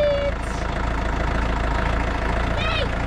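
A tractor with no tow bar idles and strains steadily while pulling a stuck glamping trailer out of a grassy dip, a continuous low engine drone throughout.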